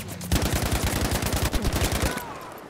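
Rapid automatic gunfire from a Battlefield V match, a steady burst of sharp repeated shots lasting about two seconds, loud and close, then stopping abruptly.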